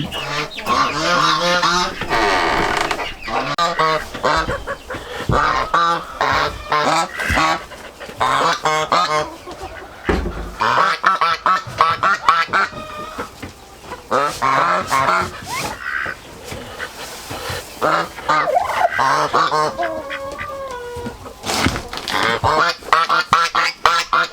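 A flock of poultry, mostly geese, honks and calls continuously at close range, loud overlapping cries with some quacking mixed in, lasting the whole stretch.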